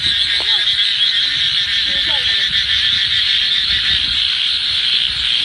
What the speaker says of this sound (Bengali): ব্যাঙ আর ঝিঁঝি পোকার ডাক শুনেছেন?